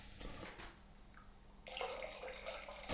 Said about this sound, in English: I'll just connect the tubing up to one end, and then hopefully we can just get this water to spill right back in the bucket